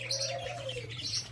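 Pigeons at a bird farm give soft, close cooing with chirpy calls over a steady low hum, continuous through the short stretch, with no talk.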